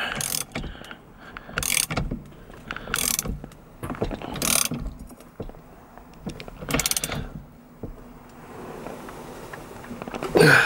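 Ratchet wrench tightening the steering wheel nut on a classic Mini, a run of quick clicking bursts in repeated short strokes, close and fairly loud, with small metallic knocks between them.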